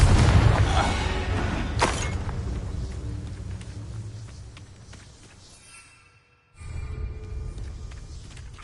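A Confringo fire spell explosion in Hogwarts Legacy, a heavy boom that rolls into a long fading rumble with a sharp crack near the start, then a brief silence before ambient sound returns.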